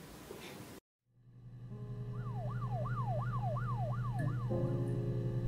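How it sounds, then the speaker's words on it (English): A police car siren sounds in the video game Her Story. After an abrupt cut to silence, a low hum swells up, then a wailing siren sweeps up and down in repeated quick cycles at a moderate distance. "So we got another shot of Simon with the police sirens again."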